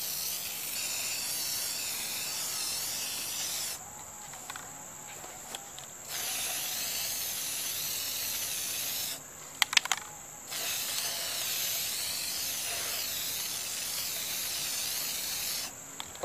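A spray can coats hubcaps in several long, steady hissing bursts separated by short pauses, heard close up with no talk.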